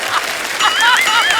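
A voice imitates an anar fountain firecracker on a comedy stage show, giving a brief, hissing, rushing spray sound with rising whistle-like squeals.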